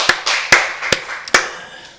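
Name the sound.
congregation applauding in church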